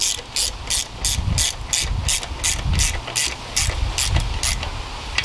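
A ratchet snugs down valve cover bolts on a Honda K-series engine, producing a rapid, even run of close, loud clicks with low thumps beneath, unbroken for several seconds and without any talking.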